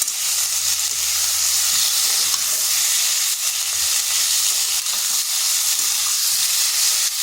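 Vegetables such as tomato frying in a pan, giving a loud, continuous hiss and sizzle that holds steady throughout without distinct stirring strokes or speech.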